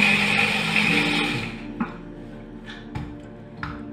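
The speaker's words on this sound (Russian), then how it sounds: "Морковь также измельчаю до однородности." A food chopper whirs loudly as it blends carrots to a smooth mass for a cottage cheese casserole, running steadily for about a second and a half before cutting out, followed by a few light clicks and knocks.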